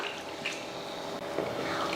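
Water being poured into a pan of chicken curry (kulambu) as it cooks, a soft, steady liquid splashing and trickling close by without talk.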